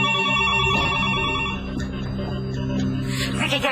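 A telephone rings on a direct line inside, a loud, repeated bell tone over a dramatic musical score, with a brief shift in the middle before the ringing carries on.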